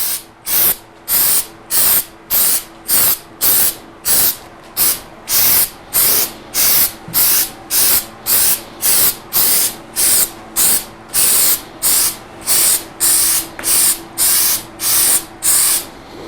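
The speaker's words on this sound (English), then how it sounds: "we want to paint just like we would spray paint anything else" A shaken aerosol can sprays paint onto a car part in short, even bursts, about two dozen hisses repeating at a steady rhythm with brief pauses between, close and loud.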